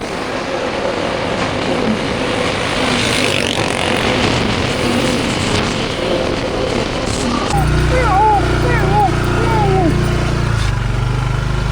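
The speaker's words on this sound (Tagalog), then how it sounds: "narinig ko yung motor natin" A household motorcycle engine drones steadily and loudly up close, with a heavier low rumble after the first several seconds and voices calling out over it.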